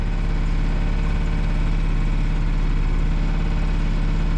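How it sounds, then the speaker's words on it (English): Big outboard motor on a trout-fishing boat in Tasmania, used as a rudder, runs as a steady, loud low-pitched engine drone throughout with no speech. "We can use the big motor as a rudder."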